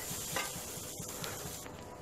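Onions for chicken korma fry in a pan, a soft continuous sizzle broken by a steady rhythm of faint stirring scrapes, quiet and close with no talking.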